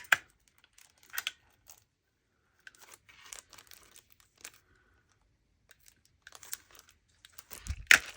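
Crinkly cellophane on a shaker tag being handled, sparse crackles and rustles in short scattered bursts separated by quiet gaps, close and soft, with a louder crinkle at the end.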